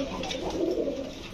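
Large pigeons in a shop cage coo in low, throaty, rolling calls that overlap continuously and sound close by; no speech.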